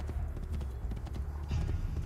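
Horse hooves clop in a quick running rhythm in Assassin's Creed 2, close and moderately loud amid game ambience.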